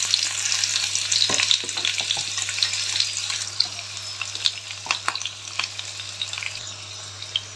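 Onions fry in a pan for dal khichdi, giving a bright, continuous sizzle with crackles and pops, stirring scrapes and some watery spattering, close and fairly loud with no talking over it.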